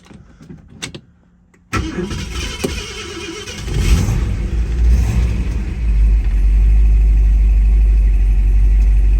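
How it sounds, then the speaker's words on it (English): A 1967 Ford Mustang Fastback with the S-code 390 V8 cranks briefly after a short silence, catches and settles into a loud, deep, rumbling idle that grows fuller over several seconds. "Let's go ahead and start it up."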